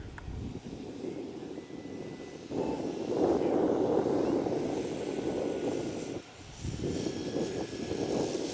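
An RC model airplane flies touch-and-goes at a club field, its small engine droning at moderate distance, swelling louder as it passes low, dipping briefly, then rising again.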